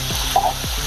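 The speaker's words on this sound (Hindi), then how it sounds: "अभी इसको कलर आने तक तलना है" Salted potatoes frying in oil over a high gas flame give a close, steady sizzling hiss for a brief moment, with faint low hums underneath.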